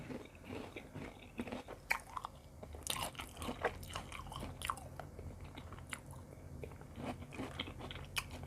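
Large, long pickled tamarind pods are bitten and chewed close up, giving repeated crisp crunches and wet chewing sounds in an irregular rhythm with no talking.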